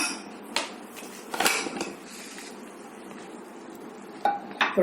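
Metal pots and lids clatter and clink in a few sharp bursts over a soft hiss of escaping steam as a pressure cooker's whistle is removed in a kitchen.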